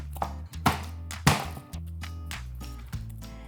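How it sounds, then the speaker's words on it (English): Several sharp knocks as the flat side of a knife smashes garlic cloves on a cutting board for tofu sofritas, four or five distinct hits spaced irregularly, close and fairly loud with no voices. "I'm just gonna smash them with the side of my knife"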